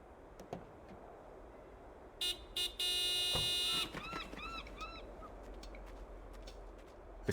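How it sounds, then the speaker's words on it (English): A car horn in Broken Sword 5: The Serpent's Curse sounds in two short honks and then one long sustained blast, followed by fainter honking calls, clear and fairly close with no speech over it. "Nico, could you honk the horn again?"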